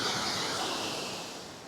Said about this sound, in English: So that's a nice waterfall